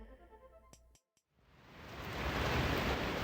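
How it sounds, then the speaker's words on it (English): Heavy afternoon downpour in University City, a steady broad roar of rain building after a brief lull, loud and dense with no voices. "That's the sound of the downpour in University City yesterday afternoon."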